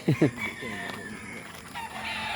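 Hens let out a couple of sharp, close clucks on a farm, then fainter squawks and rooster crowing carry on behind low background noise.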